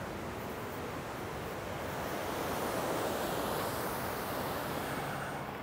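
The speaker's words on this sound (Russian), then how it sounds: "плотина Гаусмана, наш такой местный водопад" Water pouring over the Gausman dam in Sestroretsk, a small local waterfall, gives a steady, dense roar that holds unbroken and fairly loud throughout, with no voices over it.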